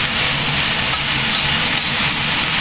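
Half a head of cabbage cooking briefly in a pan for lumpiang gulay, giving a loud, steady sizzle with stirring scrapes running through it, with no one talking.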